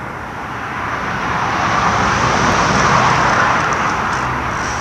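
Road traffic near a cemetery forms a steady, broad roar that swells slightly midway and then eases, continuous and fairly loud, with no voices.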